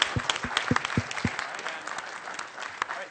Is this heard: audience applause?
yes